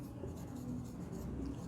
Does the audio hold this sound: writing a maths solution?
yes